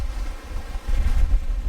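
Strong gusting wind of about 39 mph buffets the microphone outdoors on a spring fishing trip, a steady low roar that swells louder partway through, with no talking.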